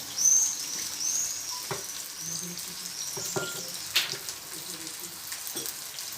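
Onion and green chili paste fries in about 30 ml of oil for a chicken shawarma filling, producing a gentle, close sizzle with occasional stirring scrapes and taps.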